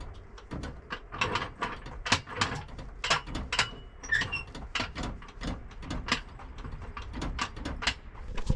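A very rusty BMW Z3 widebody being jacked up: a continuous run of quick, light ratcheting clicks and mechanical creaks, fairly faint and close, with no talking.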